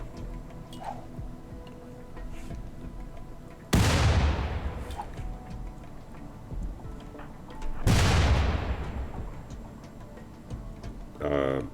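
Two separate explosions blowing a hole through a wall in the colony game Rimworld: each is a sudden, loud boom with a fading rumble, a few seconds apart, over quiet background ticks.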